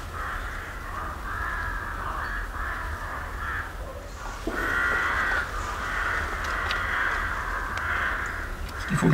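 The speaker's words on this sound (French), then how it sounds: "c'est une colonie de corbeaux qui crèche dans le coin" A colony of crows caws nearby in repeated, harsh, nasal calls that come in overlapping bursts, loud and close over a low steady background hum.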